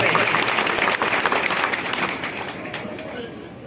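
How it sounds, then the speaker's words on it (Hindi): A crowd at a political welcome event applauds loudly and steadily, the dense clapping slowly fading, with voices mixed in. "जरा जोरदार ताली बजा करके स्वागत करें"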